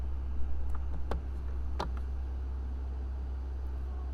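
Scissors clip the fabric corners of a sewn drawstring glasses case. A few crisp snips stand out over a low steady hum, followed by quieter ticks.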